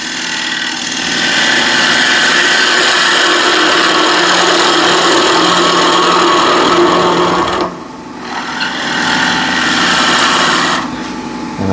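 A gouge makes a shear cut on a wooden bowl spinning on a lathe, giving a steady loud hiss and whir that drops out briefly and then resumes.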